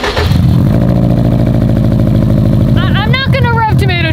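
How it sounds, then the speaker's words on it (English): A Subaru with a stock VF30 turbo and aftermarket exhaust revs loudly up close, a sustained throbbing engine note, then a few sharp throttle blips that climb and fall near the end. "We have the stock VF30 turbo on her, a nice sounding exhaust, and I just want a reliable daily."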